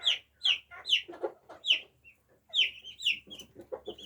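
Silkie bantam chicks call nearby in a steady run of high, bright peeps and chirps, some overlapping, with short gaps between bursts and no voices.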